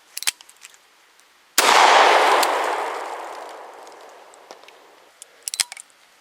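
A single loud, sharp blast from a Smith & Wesson Governor revolver firing triple-aught buckshot at a can outdoors, with a long echoing decay, framed by a few small clicks of handling.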